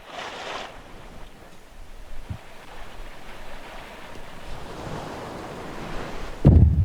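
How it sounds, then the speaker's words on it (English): Ocean waves in a fishing video game wash in a soft, continuous surf, with broad rushing noise swelling and fading gently and ending in a louder thump. "These ocean sounds are very, very nice."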